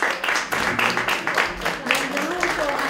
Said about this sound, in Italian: bellissimo applauso.